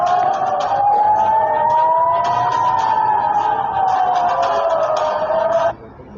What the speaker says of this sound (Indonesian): sirene peringatan berbunyi di Mefilasim dan Niram di pinggiran jalur Gaza, serta di Israel Selatan dan kota Yerusalem